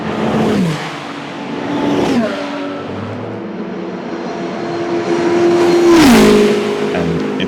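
Race cars roar past at speed, engine notes sweeping down in pitch as each passes close by, with a loud surge near the end; no talking.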